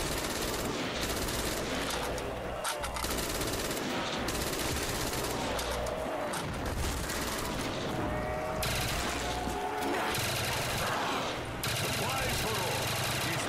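Rapid automatic gunfire from a Black Ops III custom zombies game, near and loud with dense bursts running almost unbroken alongside a talking voice.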